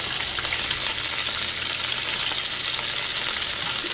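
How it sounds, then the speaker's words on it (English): Stew beef sears in a hot pan, a loud, steady, close hiss of frying and sizzling that continues unbroken, with no talking. "I'm not trying to cook them in this pan. Just give them a little sear."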